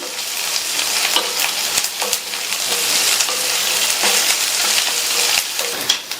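Crushed ginger and garlic sauté in hot oil with a steady close sizzle, stirred now and then with light scraping, loud and continuous with no voices.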